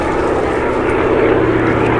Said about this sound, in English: demonstrating in a derry turn there how fabulous the ailerons on this aircraft are